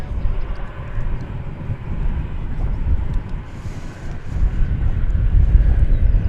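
Air Force One, the presidential plane, at DFW Airport gives a steady, loud roar of jet engines with wind buffeting and low rumble that swells slightly toward the end.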